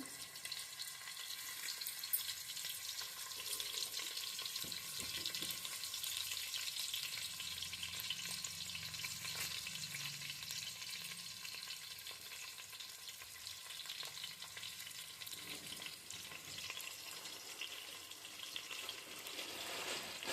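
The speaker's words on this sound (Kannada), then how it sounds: "ನೆಕ್ಸ್ಟು ನಾವು ಕರಿಬೇವಿನ ಸೊಪ್ಪು ಹಾಕ್ಕೊತಾ ಇದ್ದೀವಿ" Mustard seeds and curry leaves sizzle in hot tempering oil for sambar, a continuous close crackling hiss with faint pops that holds steady for about twenty seconds with no voices.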